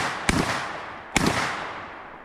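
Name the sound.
Black Aces FD12 bullpup shotgun firing buckshot rounds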